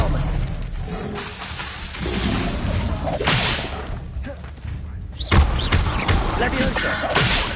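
A disarming spell cast in Hogwarts Legacy lands with sharp whip-like cracks and whooshes, mixed with thuds and other combat spell effects; a voice speaks over the action.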